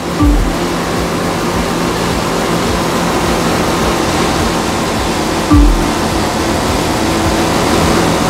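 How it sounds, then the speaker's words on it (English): A powerboat skims across rough water in an offshore race in the racing game The Crew 2, a loud continuous rush of spray and surf broken by a couple of deep hull thumps as it slaps the waves. "Not to mention the waves created by you and your competitors."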